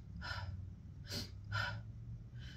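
A person imitates breathing with a series of sharp, forceful gasping breaths, about four distinct bursts close to the microphone and spaced roughly half a second apart.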